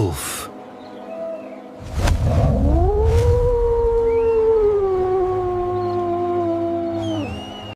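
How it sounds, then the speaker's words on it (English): A wolf howls in a long, rising then slowly falling wail that sustains for several seconds, loud and close, with sharp noise bursts before it and a short upward cry at the end. "Wolf."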